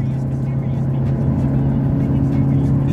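Mercedes W124 diesel car accelerating at full throttle in third gear, a steady loud droning engine note with strong low rumble, heard from inside the cabin and holding a constant pitch.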